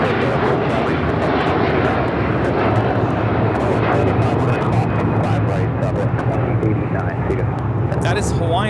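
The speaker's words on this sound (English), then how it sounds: "That is Hawaiian Airlines Flight 3 taking off to Honolulu on the A330-200." A Hawaiian Airlines Airbus A330-200 takes off from Los Angeles airport bound for Honolulu, its engines a loud, steady, broadband roar holding through the whole stretch.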